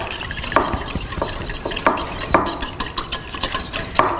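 Margarine, soya milk and an egg are stirred together in a bowl with a utensil. Repeated sharp scraping and tapping strokes come through close up and fairly loud, with no talking.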